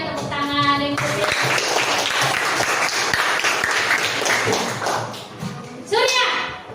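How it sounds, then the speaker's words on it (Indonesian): A classroom of children gives a short round of applause during a lesson, brisk clapping mixed with taps, thumps and shuffling, with a teacher and children talking over and around it. "oh ya tepuk tangan yang kecil"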